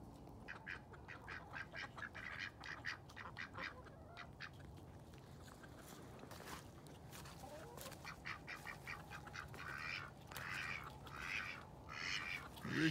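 Ducks on a hobby farm quack in scattered, fairly faint bursts against low outdoor background noise, with brief louder calls near the end.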